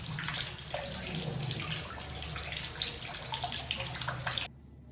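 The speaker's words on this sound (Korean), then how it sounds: "물소리가 들리시나요?" Water trickles and splashes through a limestone cave with constant, close, echoing flow, then cuts off abruptly near the end.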